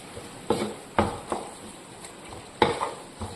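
Cooked rice is spooned into a tomato mixture in a pan, giving several sharp scraping clatters and soft thuds at uneven intervals against a quiet background.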